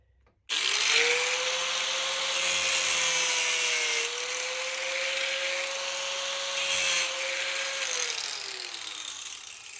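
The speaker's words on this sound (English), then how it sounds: "put a mark on there, and then grind it on the other side and put in the oiler hole" A cutoff tool grinds into a steel chainsaw bar, starting abruptly with a loud, sustained high-pitched whine and gritty scraping that shifts slightly in pitch as the cut progresses, with no talking.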